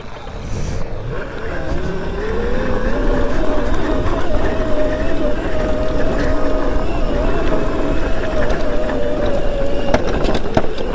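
A Razor MX650 electric pit bike upgraded to 72 volts rides a dirt trail, its motor whine rising then holding steady alongside loud wind buffeting and rumble at close range.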